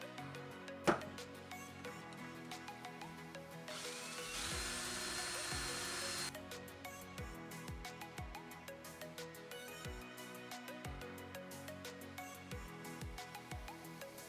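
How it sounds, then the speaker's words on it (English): A drill-driven buffing wheel on threaded rod with plywood washers whirs steadily while polishing a slingshot, rising into a harsher grinding rasp for a couple of seconds as the piece is pressed in, amid faint clicks. "This is just a buffing wheel"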